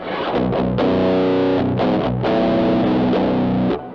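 Heavily distorted electric guitar with a baritone mod played in thick, low, muddy chords, loud and sustained with brief breaks between strums, no voices.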